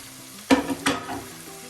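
Onions and tomato sauté in a pan for a Kerala fish curry, giving two short, sharp stirring scrapes over a soft sizzle, close and alone.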